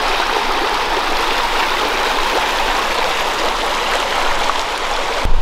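Steady, loud rush of flowing water near a watermill in Chilham village, Kent, filling the whole stretch as a continuous broadband wash with no voices.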